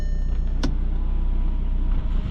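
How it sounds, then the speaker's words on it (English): Electric motor whirring steadily inside a 2005 Volkswagen Jetta TDI wagon as the sunroof opens, with a brief click early on, close and continuous. "Let's test the sunroof."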